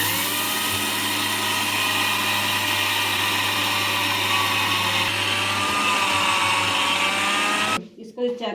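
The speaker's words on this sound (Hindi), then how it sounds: "साफ करके अब इसको मैं करती हूँ ग्राइंड, इस डिब्बी के अंदर डालती हूँ।" Electric grinder whirring steadily as it grinds sesame seeds for a skin remedy, a loud continuous motor drone that cuts off near the end, followed by a brief thump.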